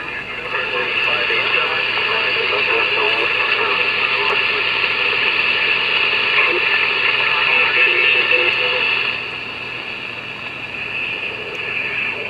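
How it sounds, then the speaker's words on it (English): A 148-series CB radio receiver gives a steady, dense hiss of static, close and fairly loud, holding for about nine seconds before dropping to a softer hiss at the end. "I'm mostly hearing static on it."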